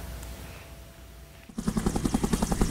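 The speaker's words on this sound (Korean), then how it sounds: "사람들이 도착한 헬리콥터에 허겁지겁 올라탑니다" A helicopter arrives to evacuate stranded tourists and residents after heavy snowfall in an Alpine village in northern Italy. Its rotor thumps in a loud, rapid, regular beat that starts suddenly and stays close.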